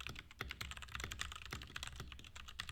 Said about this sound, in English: Typing on it feels really nice and smooth